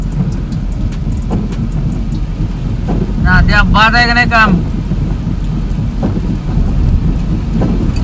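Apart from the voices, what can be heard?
rain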